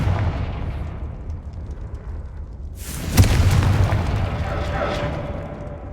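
A Confringo blasting spell from the Hogwarts Legacy video game lands as a sudden loud explosion partway through, followed by a sustained rumbling, crackling roar over a low continuous game background.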